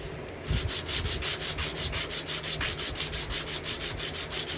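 Rapid, rhythmic back-and-forth scratching of 120-grit sandpaper on a small hard guitar nut blank, loud and close, steady strokes about five or six per second.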